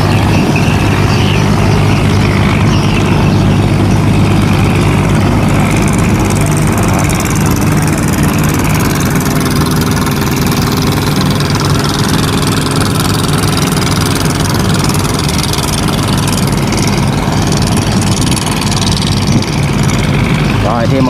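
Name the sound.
barge engine running on river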